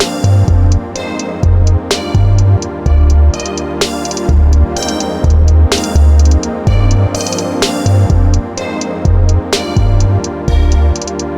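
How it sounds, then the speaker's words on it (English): Loud beat on an MPC Live II with an unfiltered bass track: heavy booming bass notes pulse in a regular pattern under crisp drum hits and a busy full mix, with no voices. "you don't want your bass to sound like this right here"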